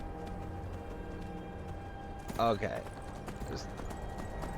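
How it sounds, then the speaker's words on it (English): Horse hooves clip-clop steadily as a rider travels in Skyrim, under a continuous game ambience, with someone briefly speaking partway through. "I'm just riding my horse."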